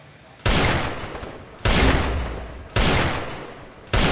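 Gunfire in a shooting video game: four loud, sharp bursts of shots, each cutting in abruptly and decaying over about a second, spaced roughly a second apart with quieter game ambience between.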